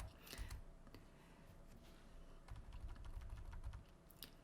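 A few crisp key presses on a computer keyboard, deleting text during slide editing; sparse, close taps over a faint background hum, with no talk.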